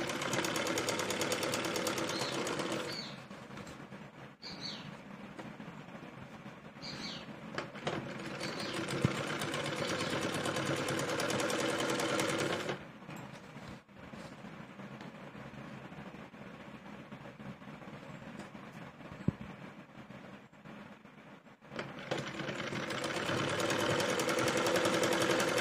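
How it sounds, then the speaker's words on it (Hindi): A sewing machine stitching a lined palazzo runs in steady, whirring stretches, close and fairly loud, with short pauses between runs and no talking. "और तब इसमें सिलाई लगाएंगे।"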